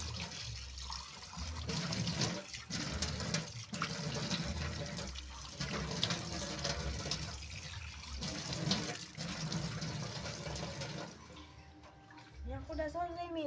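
Tap water runs steadily in a bathroom sink while something is rinsed, a continuous splashing wash with short breaks, close by and fairly loud, and a voice talking now and then over it.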